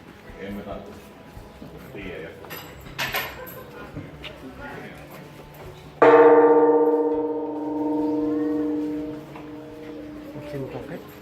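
A large temple bell rung by hand in Tokyo, Japan, struck once with a loud, close clang that rings out in a long, slowly fading hum, preceded by quiet shuffling and faint voices.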